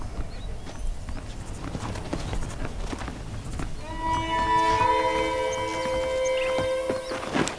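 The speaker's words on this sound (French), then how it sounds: "je vais prendre mon cheval" Horse hooves clip-clopping in the video game Red Dead Redemption, a steady rhythmic trot close by, joined midway by sustained tonal music or ambient tones layered over the hoofbeats.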